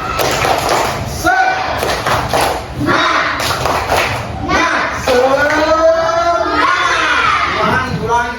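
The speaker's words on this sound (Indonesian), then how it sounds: "Coba semuanya tepuk semangat." A classroom of children performs a rhythmic spirit clap, sharp claps in patterned bursts mixed with loud chanting and shouting voices close by.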